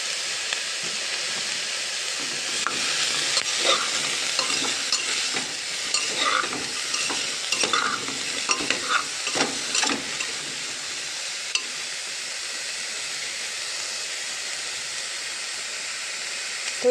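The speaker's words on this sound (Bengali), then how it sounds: "তো এটাকে আমি ভালো করে একটু ভাজা ভাজা করে নেব" Vegetables for a chicken stew sizzle in a pan while being stirred, a constant hiss broken by scrapes and clatters of the spoon through the middle, then steadier frying toward the end.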